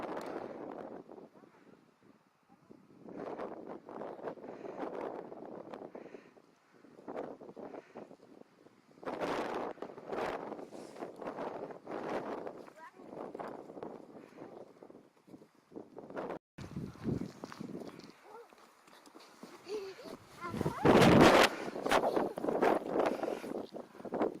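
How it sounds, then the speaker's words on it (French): Strong wind buffets the microphone in a national park in Swedish Lapland, roaring in loud gusts that swell and fade, with brief rustling and a sharp burst near the end; a voice may speak faintly beneath it. "Beaucoup de vent."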